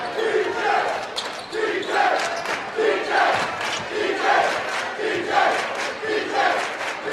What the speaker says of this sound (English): Crowd getting into it. Student section hollering out DJ.